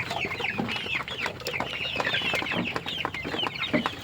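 Many chickens on a poultry farm cluck and chatter continuously, a busy overlapping flock with no voices over them.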